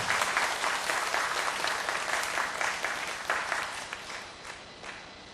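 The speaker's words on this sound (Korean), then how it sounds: "한번 크게 박수로 한번 여러분 격려하시고 축복해 주시기 바랍니다" Church congregation applauding during a sermon, a dense wash of clapping from many hands that starts strong and gradually fades over a few seconds.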